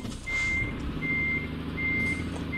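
Reversing alarm of a truck in Euro Truck Simulator 2, three evenly spaced steady beeps over a low engine rumble, fairly close and with no talk.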